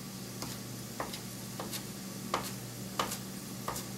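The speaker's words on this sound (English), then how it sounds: "about 5 minutes to saute the peppers" Peppers sautéing in a pan for a Mojave Bueno queso, a steady soft sizzle with occasional light utensil ticks and scrapes spaced through, close and moderately quiet, no talking.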